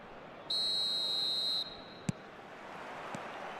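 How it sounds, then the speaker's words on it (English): Referee's whistle blowing to start a match in the football video game eFootball, one sustained shrill blast of about a second, followed by a short click over faint crowd ambience. "There's the whistle, and here we go."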